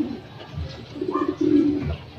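Pigeons at a loft during a derby race give a few soft, low coos up close, with faint rustling around them.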